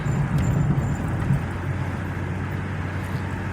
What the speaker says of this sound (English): Another car in a hurry behind me.